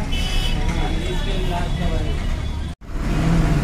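An APSRTC bus pulling away from Tenali toward Guntur, its engine rumbling steadily and fairly close amid busy roadside traffic, with a brief dropout near the end and talk mixed in.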